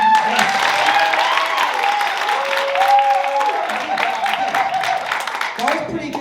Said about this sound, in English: So, what I need from you is I need applause.